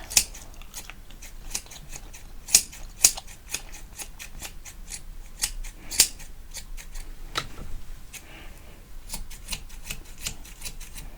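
Barber's scissors cut hair close up in a haircut roleplay, giving a steady run of crisp snips with a few sharper, louder clips and soft rustling in between.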